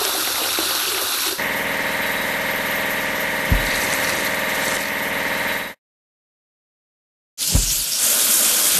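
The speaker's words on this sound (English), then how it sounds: "Concrete pump." A concrete pump runs in a mobile house-building game, a loud steady engine drone with a thud, cutting to silence and then resuming with another thump.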